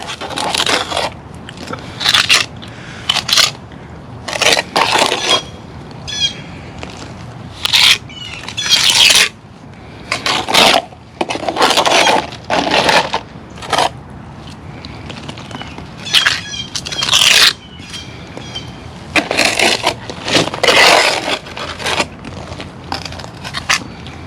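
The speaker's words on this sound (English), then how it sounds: "I'll take my trowel here and pick some of that up, and I'm kind of just smoothing it out" A trowel smooths and scrapes a stucco patch on a wall, with repeated gritty scraping strokes in an irregular rhythm, fairly close and alone.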